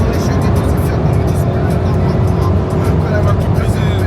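A Porsche Cayenne Turbo GT cruises at 280 km/h on a German highway, heard from inside as a loud, constant roar of engine, tyre and wind noise with no breaks.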